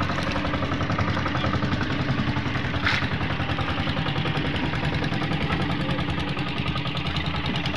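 Small boat engine idling steadily at sea, a continuous close, loud chugging rattle with a fast even knock and no talk.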